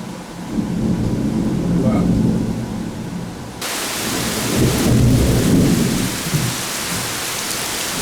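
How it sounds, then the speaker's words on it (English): Thunderstorm with heavy rain in the Brazilian rainforest: a steady hiss of rain on surfaces under deep rolling rumbles of thunder, swelling into a louder burst of downpour and thunder midway. "Outside, it's starting to storm right now."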